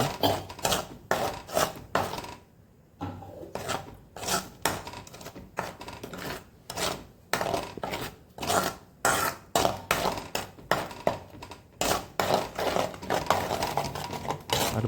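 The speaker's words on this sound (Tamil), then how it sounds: "நல்லா கிண்டி கைவிடலாம்" Okra buttermilk curry being stirred in a pot, with close, rhythmic scraping and clinks of a spoon against the metal, mostly steady with a brief pause, and no talking.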